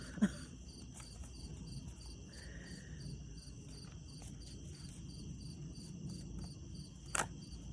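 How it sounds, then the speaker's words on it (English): Crickets chirp steadily in a quiet nighttime setting, a faint continuous trill with a couple of soft clicks and distant noises. "I can hear the crickets. You can probably hear them too."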